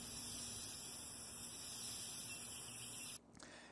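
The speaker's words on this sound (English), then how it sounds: "Now I'm gonna grab some flat black spray paint." A can of flat black spray paint hisses steadily as it coats a plywood subwoofer box, staying close and even for about three seconds before cutting off abruptly.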